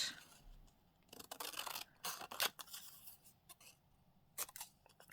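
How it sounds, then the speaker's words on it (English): Scissors cutting out paper pieces up close: a run of quick, crisp snips and rustling paper in short clusters, quiet overall with no talk. "I feel like I want to cut these out."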